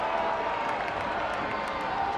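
Soccer stadium crowd at a Phoenix Rising FC match against El Paso Locomotive, a steady, dense roar of many voices filling the space, continuous and fairly distant, with no single voice standing out.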